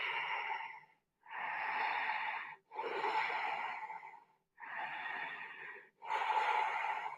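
Slow, deep breaths during a yoga stretch, five long airy inhales and exhales separated by short pauses, close and fairly soft, with no talking.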